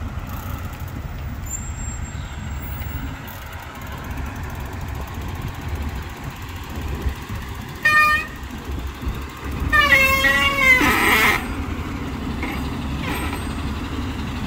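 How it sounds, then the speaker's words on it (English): An Innisfil fire rescue truck rumbles past on a road, its engine droning steadily while a short horn toot and then a longer horn blast ring out loud and near. "But there's an Innisfil fire rescue truck"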